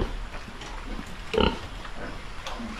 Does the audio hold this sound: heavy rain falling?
no